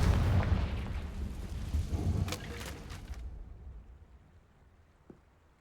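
In Hogwarts Legacy, a Confringo spell goes off as a series of loud explosive bursts and crackles. The blasts fade into a decaying rumble, then near-silence with one faint pop at the end.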